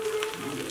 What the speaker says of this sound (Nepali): यो सब भुटेर अलैँची अनि यो सुकमेल यसलाई भुट्नुपर्छ